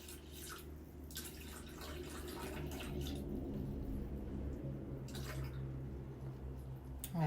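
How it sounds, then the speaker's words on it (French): Water trickles and splashes softly into a Thermomix bowl, a low, steady pour with faint drips over a quiet kitchen background. "Il me faut 200 grammes d'eau."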